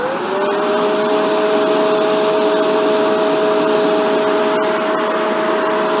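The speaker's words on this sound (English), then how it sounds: "So now I'll turn the vacuum on." Shark Rotator NV752 upright vacuum cleaner running on carpet, a loud steady motor whine with airy rushing noise, constant and close, no voices.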